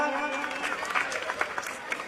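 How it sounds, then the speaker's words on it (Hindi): An audience at a religious quiz competition held during an annual festival applauds a correct answer with loud, dense clapping that rises after a brief moment of speech and continues under talk. "दिखाया गया सही जवाब, जोरदार तालियां।"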